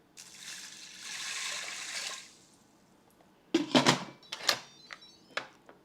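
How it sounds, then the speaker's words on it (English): Two cups of water pour into an Instant Pot holding rinsed adzuki beans, a soft steady rush lasting about two seconds, then several sharp clanks and knocks from the pot and lid. "Add 2 cups of water."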